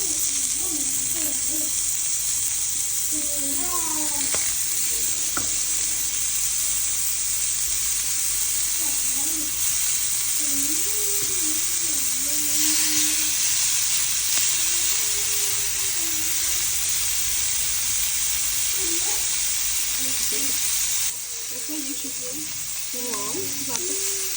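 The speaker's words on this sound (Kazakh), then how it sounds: "Жақсылап араластырып, біркелкі қазір қызып тұрған гриль сковородка болмаса, сковородкада қуырып аламыз." Broccoli frying on a hot grill pan gives a loud, bright, continuous sizzle that stays steady, with a faint voice murmuring underneath at times.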